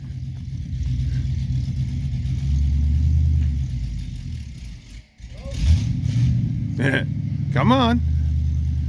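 A 1973 VW Super Beetle engine with an Edelbrock setup revs loudly and steadily up close under a voice, dips briefly, then picks up again while he talks over it.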